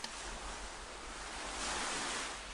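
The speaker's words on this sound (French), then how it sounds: "le mouvement régulier des vagues" Ocean waves wash onto the shore under a steady broadband roar of surf and wind, continuous and fairly soft, swelling slightly toward the end.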